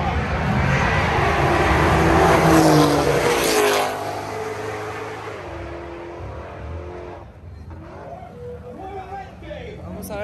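A Shelby GT500 and a Porsche 911 Turbo S drag race at a night event in La Guácima, Costa Rica, their engines roaring loudly and then fading into the distance while spectators talk nearby.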